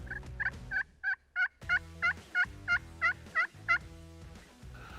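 A wild turkey gobbles repeatedly outdoors, a series of about a dozen loud, rattling calls in a steady rhythm, heard alone with no talking.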